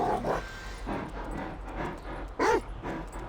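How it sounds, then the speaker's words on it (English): Dog sniffing and whimpering in the video game Grand Theft Auto 5, with soft snuffling breaths through the clip and a brief louder whine near the end, over a low game-ambience rumble. "Sniff him out, Chop Chop. Lead me to him"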